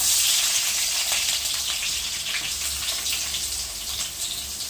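Onions frying in hot oil in a pan for a chicken gravy, a steady, close hiss and sizzle that carries on unbroken with no voices.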